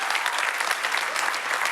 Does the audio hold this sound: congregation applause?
yes